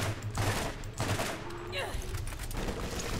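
Continuous gunfire from shooting down at enemies from a raised position in the Borderlands video game, a dense fusillade running steadily throughout with a voice briefly heard over it.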